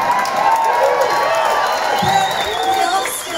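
Audience at a concert in Norway cheers and whoops in a loud, sustained crowd roar, with shouted voices rising over the general noise.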